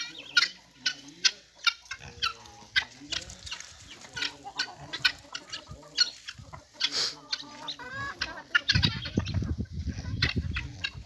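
Free-range chickens raised in the Brazilian backcountry cluck in short repeated bursts, close by in an outdoor yard, with louder rustling and movement near the end.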